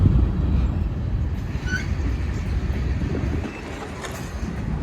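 Train cars roll past on a rail line near a creek valley, a steady broadband rumble with faint clatter and a brief high squeal, continuous and fairly close with no talking.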